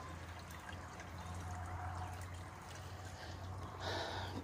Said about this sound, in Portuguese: Demorou uns 20 minutos para a água começar a cair aqui, tá vendo?